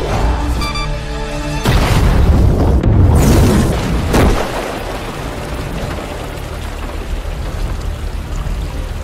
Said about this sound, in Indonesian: seketika bom meledak dengan sangat dahsyat